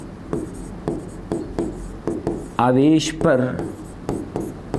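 Chalk or marker strokes on a board during a Hindi-language physics lecture, a steady series of short scratchy taps and rubs, close and clear, with a teacher speaking in the middle of the writing.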